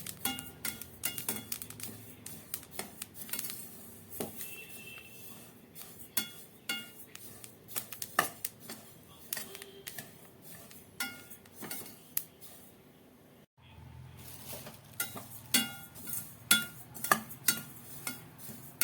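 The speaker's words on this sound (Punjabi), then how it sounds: "ਹੁਣ ਆਪਾਂ ਪਾ ਦਿਆਂਗੇ ਤਿਲ ਇਹ ਦੇਖੋ 2 ਮਿੰਟ ਆਪਾਂ ਇਹਨਾਂ ਨੂੰ ਭੁੰਨਾਂਗੇ" Sesame seeds roasting in a pan for a Punjabi winter panjiri, a spoon scraping and clinking against the metal in quick irregular strokes, close and fairly quiet, with a brief pause partway through and no talk.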